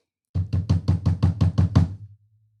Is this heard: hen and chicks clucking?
no